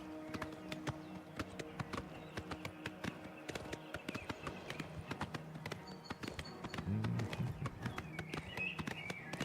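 Horse hooves clip-clopping in a quick, regular rhythm in the Oblivion Remastered video game, faint and steady with light game ambience around them.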